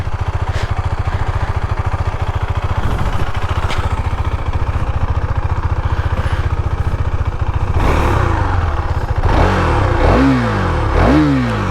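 A 2023 KTM Duke 390 motorcycle engine runs with a loud, steady, rapid thrum close by, then revs and accelerates in rising, swooping pulls toward the end.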